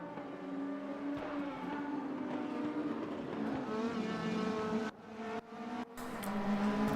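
Several Mercedes race cars in a racing video game dueling closely on track, their engines droning and shifting pitch steadily, with brief dips as cars lift off between gears.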